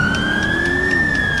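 Police car siren in GTA V with the LSPDFR mod, a loud, steady wailing tone that rises slowly and then falls, heard alone and close.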